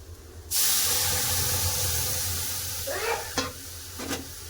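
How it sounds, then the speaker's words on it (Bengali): Boiled lentils poured into a hot pan of fried onions set off a sudden loud, rushing sizzle that hisses steadily and slowly eases, with a couple of splashy stirring knocks near the end. "সিদ্ধ করে রাখা ডাল ঢেলে দেবো"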